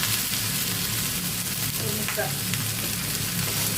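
Onions sizzle and fry loudly and steadily in a pan for watermelon bhaji, with intermittent stirring scrapes close up throughout.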